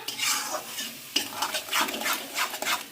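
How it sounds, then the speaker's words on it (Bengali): Spices and ground tomato for a mutton curry being stirred and sautéed in a pan, with a steady sizzle and repeated scraping strokes of a spoon against the metal, close and fairly loud, no talking. "সব কিছুকে একসাথে আমি এখন ভালো করে কষিয়ে নেব।"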